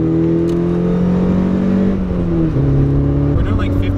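A stock 1.6-litre Mazda Miata engine drones loudly from inside the cabin, its exhaust note rising and shifting as the car accelerates through the gears, with a voice faintly beneath.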